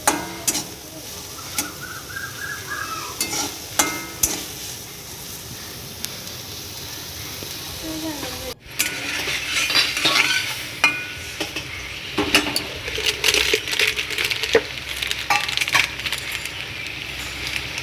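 Spiced potato curry is stirred in a hot pan, with a spatula scraping and clinking against the metal over a steady sizzle that grows louder and busier in the second half.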